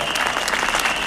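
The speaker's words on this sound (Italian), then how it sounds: "Fate un applauso a donne e uomini," At a political rally in Serra San Bruno, Calabria, the crowd gives a short, dense burst of loud applause, many hands clapping together at close range.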